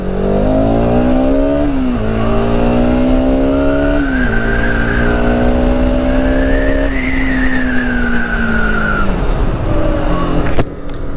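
A 2020 Bajaj Pulsar RS200 BS6 motorcycle accelerates hard through several gear changes, its engine note rising and dropping back with each shift, loud and close from the rider's position with wind noise.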